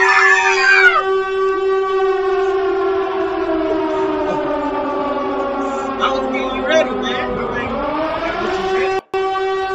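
A Siren Head siren from a Roblox horror game wails as a long, loud, sustained tone with a slow falling-then-rising pitch. Scattered faint game sounds run underneath it.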